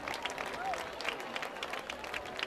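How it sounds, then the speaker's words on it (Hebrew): An audience claps steadily in dense, continuous applause for the mayor of Jerusalem, with a faint voice sounding briefly through it. "תנו לו מחיאות כפיים"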